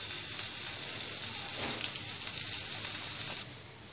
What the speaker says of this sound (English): we're going to start by heating the pan, add some oil, and then we're going to place our patties